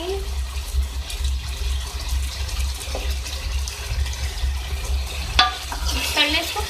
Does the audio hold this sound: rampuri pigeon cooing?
no